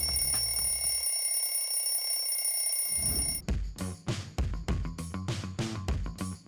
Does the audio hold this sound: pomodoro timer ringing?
yes